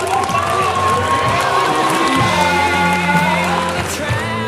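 An audience cheers and shouts loudly and continuously for the champion at the 2010 NJ Spelling Bee final round, with children's voices whooping in a dense, sustained crowd roar.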